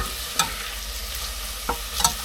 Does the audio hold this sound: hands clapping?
no